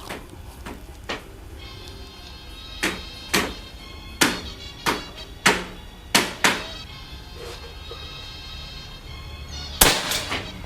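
A series of sharp, snappy shots from a PCP air rifle with a slug barrel ring out one after another at uneven intervals, each a crisp crack with a quick decay over faint background noise.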